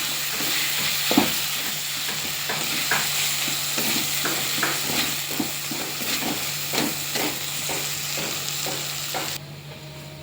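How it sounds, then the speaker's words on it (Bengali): Mashed sweet potato mixed with fried chillies is sautéed and stirred in a pan, giving a steady close sizzle with repeated scraping strokes of a spoon throughout, no voices. "এবারে ভালো করে কষে নেব।"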